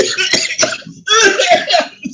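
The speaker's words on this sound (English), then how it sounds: "Look, I started coughing." A person coughs loudly and close up in a quick series of harsh bursts with a short pause in the middle, the coughs running into one another.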